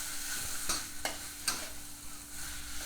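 Nam prik ong paste stir-fried in a pan, a close steady sizzle punctuated by three crisp spatula strikes and scrapes, with no voices.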